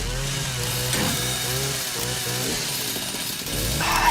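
A chainsaw in the video game Resident Evil Requiem drones loud and steady, its engine pitch wavering and revving up near the end, with game effects mixed in.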